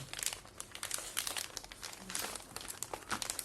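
Crinkly plastic rustles and crackles in quick, uneven bursts close by as a zip-lock bag of Turkish met halva is handled and pulled open.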